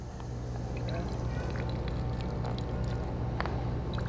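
Water is squeezed out of chopped vegetables for veggie burgers, a steady close wet trickling and squishing that runs throughout, with a voice talking underneath.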